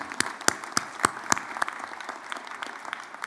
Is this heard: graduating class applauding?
yes